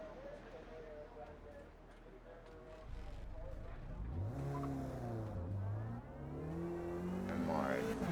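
Ford Cortina race car in Forza Motorsport at Watkins Glen pulling out of the pits, its engine revving and climbing in pitch as it accelerates, loud and close throughout.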